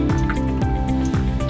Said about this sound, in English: you're going to turn on your water, wet your hands